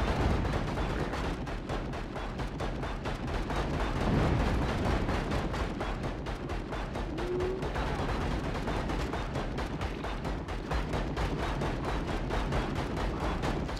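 Rapid, unbroken video-game gunfire from the Contra gun in Vicious Attack Llama Apocalypse, fired in alternating mode: a dense, loud barrage of overlapping shots that keeps going for roughly fourteen seconds with no pauses.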